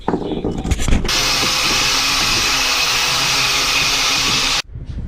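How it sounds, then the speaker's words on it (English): A loud, steady power sander whines and grinds on a dagger handle continuously for several seconds, broadband and harsh, starting abruptly and cutting off near the end. "Now to sand it."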